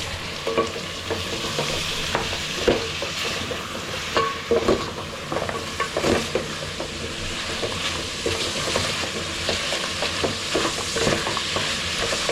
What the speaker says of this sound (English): At this point, add your meat. So that it cooks together with your onion.